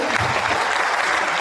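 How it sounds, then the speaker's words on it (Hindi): A crowd at a promotional event applauds in sustained, energetic clapping, with a faint voice briefly mixed in under the dense applause. "तो एक बार जोरदार ताली"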